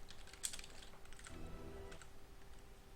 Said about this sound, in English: I'm going to reply to that now, so if you hear typing.